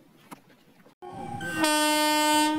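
A train at Kudal railway station sounds its horn, a long sustained tonal blast that starts after about a second of quiet platform noise and grows louder, staying strong and steady close by.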